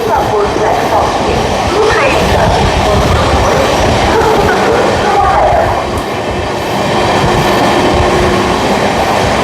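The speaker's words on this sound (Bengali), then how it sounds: "ব্যারাকপুরের 3 নম্বর দিয়ে থ্রু বেরোচ্ছে আমাদের শিয়ালদা জয়নগর গঙ্গাসাগর এক্সপ্রেস" The Sealdah–Jaynagar Gangasagar Express runs through platform 3 of Barrackpore station without stopping, a loud and close roar of rolling wheels and clattering carriages that dips briefly midway before surging again.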